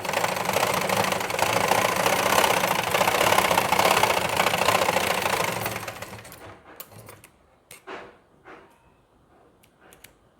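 A sewing machine runs steadily while stitching a blouse, a dense mechanical whir for about six seconds, then stops, leaving a few scattered clicks and taps.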